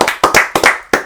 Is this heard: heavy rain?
no